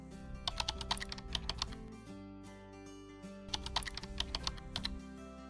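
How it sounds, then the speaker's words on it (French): A computer keyboard being typed on in two quick bursts of rapid clicking keystrokes separated by a short pause, close and fairly quiet, with a faint steady music bed underneath. "une fois que tu es sur ton navigateur, tu vas taper youtube.com"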